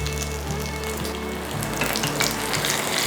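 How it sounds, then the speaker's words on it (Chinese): Sweet potato slices wrapped in nori fry in hot oil in a non-stick pan on an induction cooktop, giving a steady, close sizzle with faint crackles and no voices. "油热了，先煎一片"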